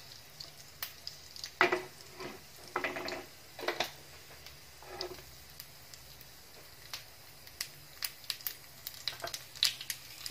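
Sharp crackling pops from mustard seeds sizzling in hot oil for coconut chutney tempering, scattered bursts over a low steady hiss, close by.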